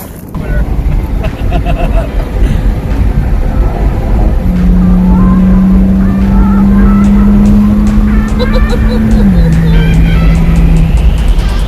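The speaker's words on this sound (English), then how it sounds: "So let's go take her for a test drive." A BMW E90 drives with its engine running on a test drive after valve cover work, giving a loud steady rumble with road and wind noise and a rising whine, recorded from inside the car.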